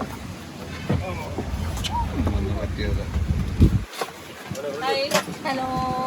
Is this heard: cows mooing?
no